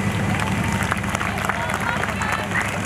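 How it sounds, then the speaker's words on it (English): A crowd at a car show awards ceremony applauds, with loud, dense clapping and murmuring voices blending into a steady wash of noise. "I think we need a massive round of applause for Mr."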